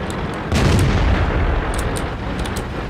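A tank gun in World of Tanks fires at a German light tank, giving one loud, heavy boom that rumbles and then decays, with a few faint sharp clicks afterward.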